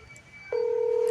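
A telephone call connects and a steady electronic ringback tone starts about halfway through, clear and continuous after a moment of quiet line noise.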